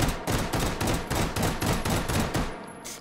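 Beretta M93R select-fire pistol in the VR game Hot Dogs, Horseshoes and Hand Grenades, firing repeated rapid bursts, loud and close, evenly spaced volleys with short gaps and a brief pause near the end.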